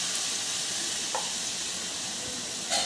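Small rounded balls of nutty snack batter fry in a shallow layer of oil, giving a steady close sizzle with a soft bubbling crackle throughout and a brief louder spit near the end.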